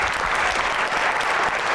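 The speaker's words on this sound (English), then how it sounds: "Can we have another round of applause for Kenya and Executive Fitzgerald?" Dense, steady applause from an audience at a civic coding event in Pittsburgh, filling the whole moment with continuous clapping at close range and no voices over it.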